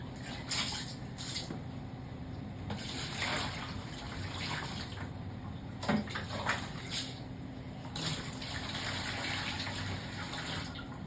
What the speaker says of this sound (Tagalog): Maglagay tayo ng tubig sa palanggana.